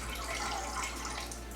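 Juice, made without fresh lemons, pours steadily from a Nama J2 juicer into a container in a continuous splashing stream, close and moderately loud with no pauses.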